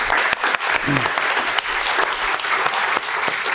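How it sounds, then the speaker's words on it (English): An audience at an education panel event bursts into full, loud applause for the panelists, a thick continuous wash of clapping with a few sharper individual claps standing out. "please give them a round of applause for their thoughts today"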